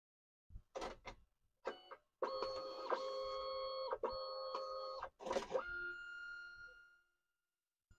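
A DNP photo printer, just repaired after a no-print fault, starts up with a few short mechanical clicks and whirs, then runs a steady tonal motor hum while printing, pauses briefly, resumes and winds down.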